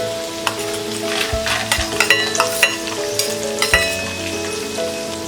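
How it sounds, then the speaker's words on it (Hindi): Roasted peanuts and fried cashews stirred through murmura chivda in a pan, a loud close run of rattling, scraping stirs and crisp clatter over a continuous frying hiss, no speech. "रोस्टेड पीनट्स मिक्स कर देते हैं"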